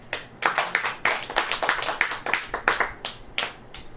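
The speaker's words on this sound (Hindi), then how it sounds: "ताली बजाइए।" A church congregation clapping in rhythm during a sermon, a run of sharp, evenly spaced group claps, close and fairly loud, with no speech over it.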